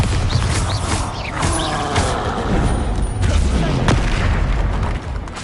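Bombarda spell blasts in Hogwarts Legacy, loud booming explosions with mechanical clanks and creaks inside a continuous, dense wash of combat noise.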